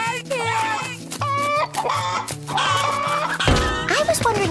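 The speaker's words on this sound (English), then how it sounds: "This chicken has gone crazy!" Cartoon chicken clucking frantically, rapid repeated squawks and clucks over a bouncy musical backing, loud and close.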